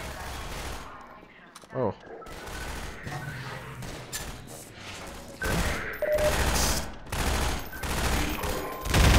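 Bursts of gunfire in Half-Life 2 crackle through a dense game soundscape, with rapid shots and heavier volleys growing louder toward the end, and a short spoken exclamation partway through.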